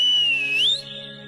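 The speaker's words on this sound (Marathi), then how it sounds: "शिट्टी वाजली" A single bright whistle blast holds steady, dips, then slides upward before fading, sounding over sustained musical tones with no talking.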